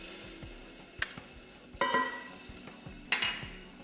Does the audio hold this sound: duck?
no